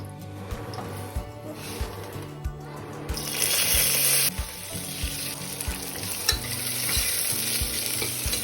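Ghee hits a hot pressure-cooker pot with a bright sizzle that swells for about a second midway, surrounded by steady rhythmic scraping and clinking of a spoon stirring the food.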